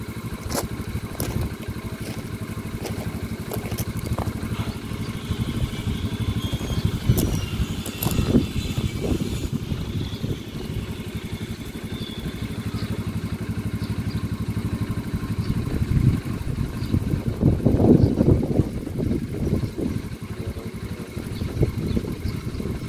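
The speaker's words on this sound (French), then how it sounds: "elle tourne parfaitement au ralenti comme ça" A motorcycle engine idles steadily up close, a continuous low rumble with slight fluctuations and a brief swell toward the end.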